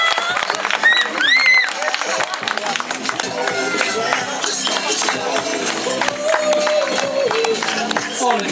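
Crowd cheering and clapping at the finish line of the 4th Iława half marathon as runners come in, a steady dense wash of applause and shouts with an announcer's voice talking over it throughout.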